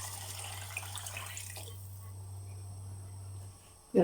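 Water pours and splashes steadily into a cooking pot for mung dal, then thins out and stops, followed by a brief clunk at the end.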